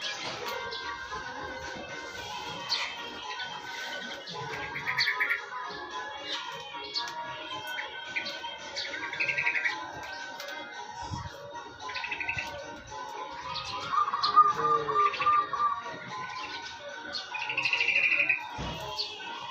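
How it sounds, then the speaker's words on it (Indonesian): Pigeons in a loft during feeding of young, giving steady chirps and soft calls that overlap at moderate level throughout, with brief louder bursts of twittering. "Lagi rame burung."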